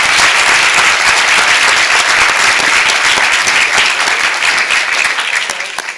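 Loud, sustained applause from a school board meeting audience honoring Pennsbury Lift Character Award winners, dense clapping filling the room for about six seconds before tapering off at the end.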